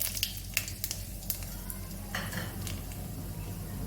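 Black cumin and a dried chili sizzle in hot oil used for frying hilsa fish heads, a steady close crackle with a few sharp clinks and scrapes of stirring on top.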